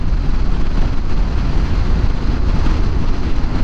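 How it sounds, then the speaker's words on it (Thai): Heavy wind buffets the helmet of a rider on a Yamaha Xmax scooter on an afternoon road in Amata City, Chonburi, a loud, constant roaring blast of low rumble that fills the whole stretch with no voice heard. "โอ้ลมมันแรงจริงทุกคนเนี่ยมันตีหมวกกับน็อกผมลงเนี่ย"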